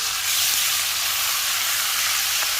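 Garlic paste frying with spices in hot oil for a prawn and red amaranth dish, a loud, steady sizzle and hiss filling the whole stretch without pause.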